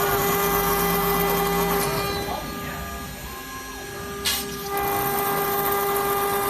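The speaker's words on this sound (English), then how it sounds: "Now we are cutting acrylic sheets." A CNC machine with an Italian HSD spindle cuts acrylic sheet, giving a sustained high-pitched whine with steady tonal hum that dips mid-way and rises again with a brief sharp burst.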